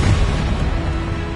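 A Confringo blasting spell detonates in the Hogwarts Legacy video game, producing a deep, rumbling boom that fills the short clip at a steady loudness with no speech.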